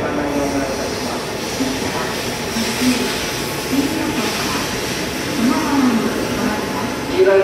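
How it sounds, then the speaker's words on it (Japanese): A Shinkansen Hikari bound for Tokyo rumbles steadily into a station platform at Toyohashi, occasional squealing wheel tones rising above the hum, while a voice speaks over it. "光号到着です。"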